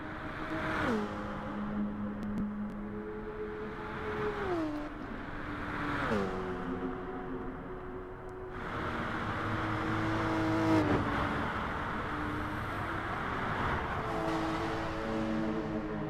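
GT Sport race cars sweep past one after another on the virtual Nürburgring, each engine note rising then dipping as the car goes by, with a steady quieter engine drone between passes.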